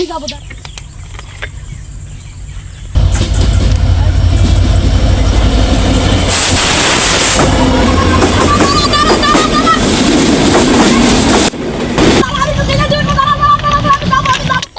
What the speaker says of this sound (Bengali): ট্রেনটা কি করতে দাঁড়াল না